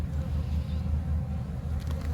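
Steady, dense buzzing of many honeybees close by at an open hive during a hive check, a continuous low drone with no talking.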